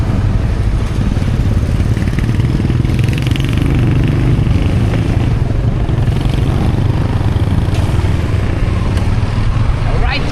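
A motorcycle engine runs loudly and steadily nearby, a constant low rumble with some clatter, while people talk over it.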